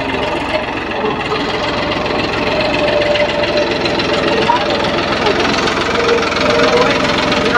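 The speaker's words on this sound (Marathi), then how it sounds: "आत्ताच नांगरवाला आलाय ट्रॅक्टर घेऊन" A tractor pulling a plough through a farm field runs with a steady, knocking engine drone throughout, close and loud, while someone talks over it.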